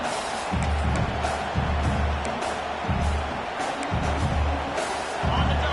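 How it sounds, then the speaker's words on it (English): A football stadium crowd roaring continuously in a dense, steady wash of noise, with a commentator talking over it in rhythmic bursts. "This crowd, full throat, splitting the eardrums and letting them know it's going to be a long day"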